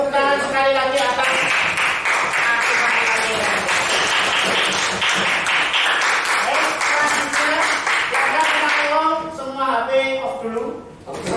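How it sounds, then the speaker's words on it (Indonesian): Students in a classroom applaud a group presentation with brisk, fairly loud clapping that runs for several seconds before thinning out, while voices of a teacher and students carry over and after it. "Kita beri tepuk tangan sekali lagi"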